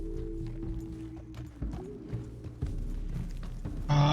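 Horse hooves clip-clop in the Red Dead Redemption 2 video game, a few soft, irregular hoof thuds at a walking pace under low ambient game sound, ending with a brief burst of noise.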